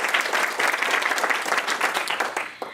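Hand clapping from a town hall audience, dense and lively applause with many individual claps, loud and sustained before thinning out at the end.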